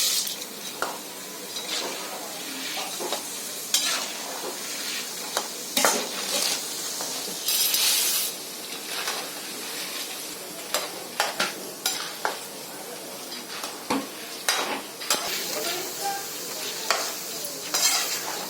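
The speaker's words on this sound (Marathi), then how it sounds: "ते डाळ पण तशीच तळून घ्यायची भाजून तेलामध्ये" Dal frying in hot oil for homemade thin poha chivda, a steady sizzle broken by frequent scraping stirs and clinks of a metal spoon against the pan.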